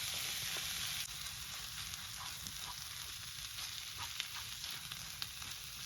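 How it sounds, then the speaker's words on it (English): Food sizzling steadily in a pan over a camp stove during car camping, with a constant bright frying hiss and occasional soft scrapes of stirring, close up and with no voices. "Mix that up and then."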